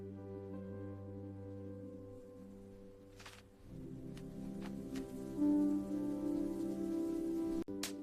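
Steady rain patters on a surface on a wet morning, a soft continuous wash with a few sharper drips, running under gentle sustained musical tones.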